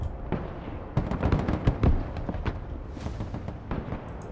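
In the video game Broken Arrow, flamethrower infantry fire incendiary rockets in a dense, rumbling string of blasts and crackling bursts that overlap without pause, loud and close.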